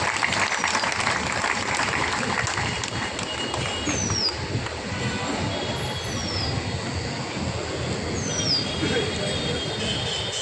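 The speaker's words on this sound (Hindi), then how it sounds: "इनके लिए जोरदार ताली बजाओ भाई एक बार" A crowd at a rally in India claps hard and continuously, a dense, loud patter of applause that holds steady throughout, with a few faint whistles.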